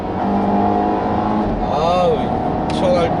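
A Volvo XC90 T6 engine revs up through a manual gear shift, its rising drone climbing and dropping as the gear changes, heard from inside the cabin while someone talks over it.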